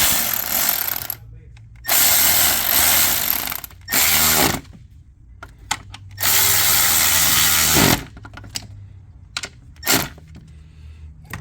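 A power tool runs in several loud whirring bursts of one to two seconds each, separated by quiet gaps and ratchet-like clicks, while bolts are driven into the oil filter housing of a 2014 BMW 535 diesel F10.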